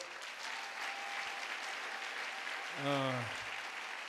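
A church congregation applauds during a Sunday service, steady clapping mixed with crowd noise, with a brief loud voice rising over it near the three-second mark.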